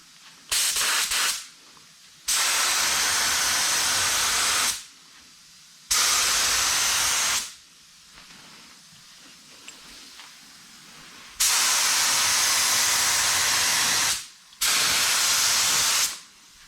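Clear coat sprayed onto car headlights during a restoration, heard as loud, close hissing bursts of the spray gun, four long passes of a few seconds each separated by short pauses, with no talking.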